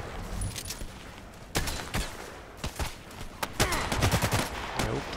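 Gunfire in the shooter game Contract Wars: scattered sharp single shots and short bursts over a noisy game backdrop, some close and loud, others duller, without talking.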